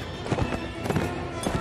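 Horse hooves clip-clop in a medieval battle in the Mount and Blade Warband video game, several quick muffled thuds in uneven rhythm, close and moderately loud, with no talk in the clip.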